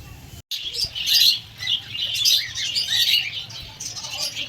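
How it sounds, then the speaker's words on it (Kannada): Birds chirp and call at a hill-view resort, a busy mix of bright tweets and calls that runs almost continuously after a brief gap at the start, fairly close, with no one talking. "ಗೈಸ್ ಇಲ್ಲಿ ಬರ್ಡ್ಸ್ ಎಲ್ಲ ಇದೆ ನೋಡಿ."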